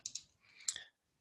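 Computer mouse clicks while working with layers in a design program: a quick double click, then a pause and another pair of sharp, close, quiet clicks against near silence.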